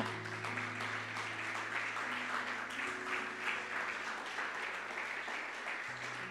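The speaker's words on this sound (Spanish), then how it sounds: "Dale un aplauso, hermano." Sustained applause from a church congregation, a dense even wash of clapping with a low steady hum beneath.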